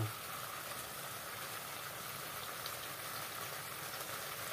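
Hot oil sizzles steadily in a pan as a pork chop cooks, a dense, even crackle and hiss holding at a constant level throughout.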